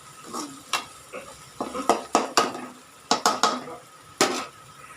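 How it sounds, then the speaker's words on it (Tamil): Ginger-garlic paste sautéed in oil in a pan for a chicken gravy: a spoon scrapes and clatters against the pan in uneven bursts over a soft, steady sizzle, close and moderately loud. "நல்லா வதக்கணும் எண்ணெயிலே, அப்போதான் நல்லாயிருக்கும்"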